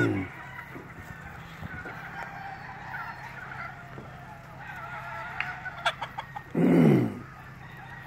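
Hens in a farmyard cluck softly in scattered short calls, then one lets out a louder, drawn-out squawk near the end over a quiet background.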